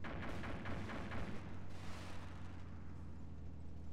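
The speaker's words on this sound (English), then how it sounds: "Oh, they're shooting at me." Gunfire in a video game, a burst of rapid distant shots and booms over a low steady rumble, thinning out after a couple of seconds, with no talk.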